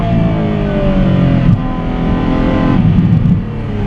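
A Ferrari F12 Berlinetta V12 revs hard and loud close by, its engine note climbing through a couple of gear changes with brief dips between pulls.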